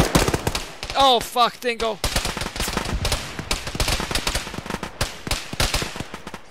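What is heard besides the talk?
friendly gunfire in a video game (Arma)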